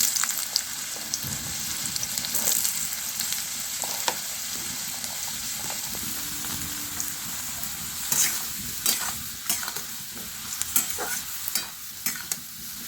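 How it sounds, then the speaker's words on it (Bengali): Potatoes frying in hot oil in a pan, a steady close crackling sizzle with scattered spatula scrapes and stirring clicks that grow busier toward the end, no one talking. "তেলটা গরম হয়ে গেছে, এবার আমি আলুগুলো ভেজে নেবো।"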